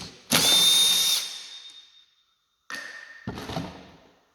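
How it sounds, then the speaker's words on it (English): Power drill spinning out 7/16 panel bolts on a Genie lift: a loud, close whirring burst of about a second and a half, then a pause and two shorter bursts. "You just whiz out a few bolts here, they're 7/16."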